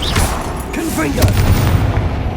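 Booming fire blast from the Confringo spell in Hogwarts Legacy, a loud explosive burst with rumbling low end, layered over game effects and a voice shouting throughout.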